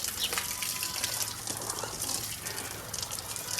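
Water gushes steadily from a pipe or hose onto a dusty dirt courtyard to settle the dust, a continuous loud rushing splash with a low hum beneath.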